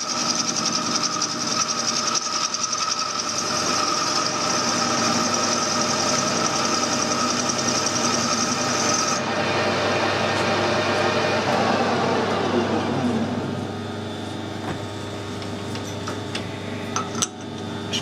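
A metal lathe cutting a taper into a drill spindle, a steady whirring machine drone with a tool chattering faintly against the spinning steel, the pitch easing and quieting partway through.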